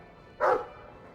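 A single short dog bark rings out in the fantasy game Dragon Age 2, one sharp close yelp standing alone over quiet background.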